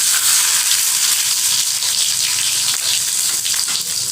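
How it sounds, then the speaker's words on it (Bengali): Tomatoes frying in hot oil with bay leaf, dried red chilli and five-spice tempering, a loud, close, steady sizzle that fills the whole stretch with no talking. "এই টমেটোগুলো ভাজা হয়ে গেছে"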